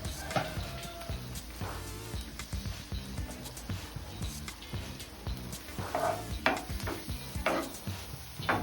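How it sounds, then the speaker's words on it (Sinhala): Cheese pasta ingredients frying and being stirred in a pan, with repeated rhythmic spoon scrapes and taps over a low, steady sizzle, close by and without talk. "මේ ටික හොදට බදින්න."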